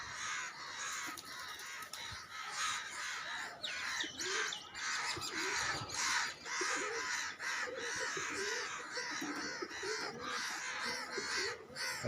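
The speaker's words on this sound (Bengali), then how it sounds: "দেখেন কতগুলা কাক চলে এসেছে" A crowd of crows gathers around trees near chicks and eggs, cawing constantly and harshly, with overlapping calls and some smaller bird chirps, fairly close and continuous throughout.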